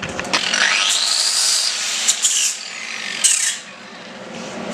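Power tool grinding back a weld bead on a metal edge during a Merch 131 refit, a steady loud rasping whine with a brief burst near the end before it eases off.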